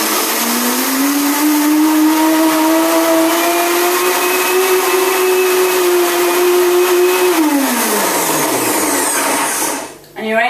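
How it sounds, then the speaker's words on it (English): A blender whirs through a raw pear and ginger cheesecake filling, its loud, steady motor whine climbing slightly in pitch before spinning down near the end, with no talking. "So once you've added all your ingredients together, you then want to blend."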